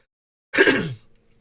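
A single short throat clearing, a quick rough cough-like burst from a nearby person lasting under half a second, then silence.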